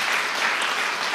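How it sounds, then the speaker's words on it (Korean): A crowd at a political rally claps in a dense, even burst of applause, loud and close, with no voices over it. "박수 한번 부탁드립니다."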